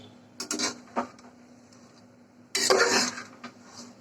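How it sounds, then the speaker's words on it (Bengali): Food being stirred in a pan with ground coriander, cumin, salt and garam masala, a few clattering scrapes of a utensil against metal, the loudest burst near the end, with quiet gaps between. "এখন ভালো করে মিক্সড করে কষিয়ে নিচ্ছে"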